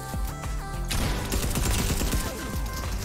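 Rapid SMG fire from the video game Fortnite crackles in a dense burst that starts about a second in and keeps going loud and close, with a steady rattle over background game noise.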